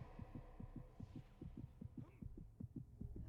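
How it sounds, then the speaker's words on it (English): A steady, close heartbeat pulses in the Alan Wake video game, regular low double thumps repeating about every quarter second over a faint hum, with no talk. "I can hear my heartbeat."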